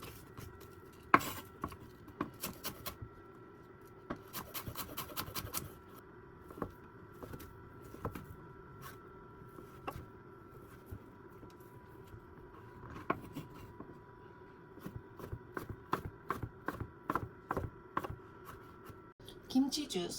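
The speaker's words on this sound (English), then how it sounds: "Let's start by chopping everything into bite-sized pieces." Onions and ham are chopped into bite-sized pieces on a cutting board at home, a quiet series of irregular knife taps in bursts with kitchen background hum.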